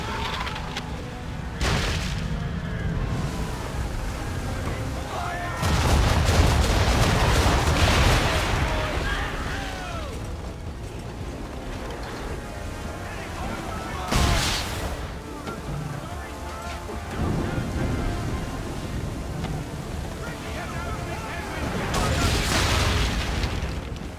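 Ship cannon fire during a storm at sea in Assassin's Creed III Remastered, with repeated heavy booms spaced apart over rushing wind and waves, and voices speaking at times.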